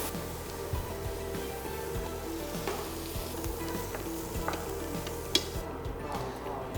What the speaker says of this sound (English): And now I will stir fry mushroom.